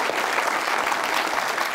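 Studio audience at an Eid-ul-Adha special television show bursts into strong, dense applause, continuous clapping throughout the short stretch with no talk over it.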